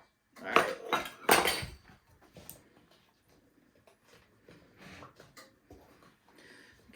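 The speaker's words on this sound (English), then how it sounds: "I'm just going to scrape it out with a spatula and get it on in there." A spatula scrapes undissolved cocoa powder around a bowl while a batter for cocoa butter squares is mixed, giving two loud clattering scrapes early on, then softer, intermittent scraping and light knocks against the bowl.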